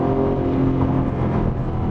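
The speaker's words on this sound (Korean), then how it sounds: "지금 주행하면서 들려오는 이 배기 사운드" An Aston Martin Vantage sports car cruising at about 3000 rpm with a ZF 8-speed gearbox gives a loud, steady exhaust drone with a deep rumbling tone and no talk over it.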